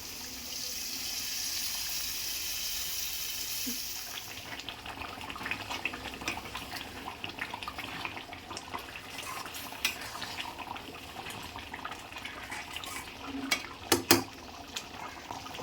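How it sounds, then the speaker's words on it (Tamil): Tamarind water runs and trickles steadily into a pot of simmering curry for several seconds, followed by quieter liquid sloshing and a few light clinks near the end. "புளி தண்ணி சேர்த்துக்கிறேன்."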